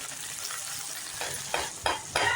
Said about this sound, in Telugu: ఉల్లిపాయ ముక్కలు బాగా వేగినాక టమాటా ముక్కలు వేసుకొని అవి కూడా బాగా వేగనివ్వాలండి